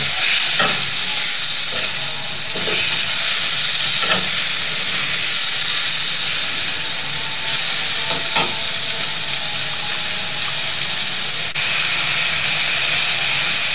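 Tomatoes fried and stirred in a pan for an eggplant-tomato bharta, with a loud steady sizzle and hiss throughout and occasional soft scraping stir strokes, no talking.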